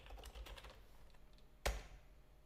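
Quick keystrokes on a computer keyboard, a short burst of soft, close clicks followed by one louder key press, entering a device password during an appliance setup.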